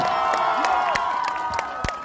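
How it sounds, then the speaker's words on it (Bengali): A live audience at a Bengali stage event for the actor Dev's Khadaan tour cheers and claps, a dense, steady roar of crowd noise with scattered sharper claps and whoops throughout. "এই ছেলেটার জন্য একটু জোরে হাততালি"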